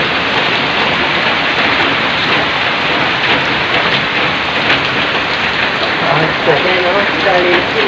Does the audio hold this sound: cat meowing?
no